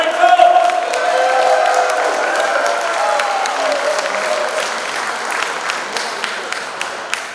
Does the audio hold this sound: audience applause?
yes